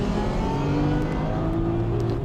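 Race cars, including four-wheel-drive JDMs, accelerating hard off the starting grid, a dense loud blend of revving engines climbing in pitch together.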